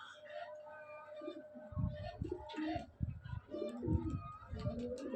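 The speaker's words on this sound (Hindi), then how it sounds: "कबूतर ये देखें जी आ रहे हैं, नीचे आ रहे हैं जी" Pigeons, including a black champion pigeon, coo and flutter nearby as they come down to be fed grain, with low, rounded cooing calls repeating in irregular bursts over faint background noise.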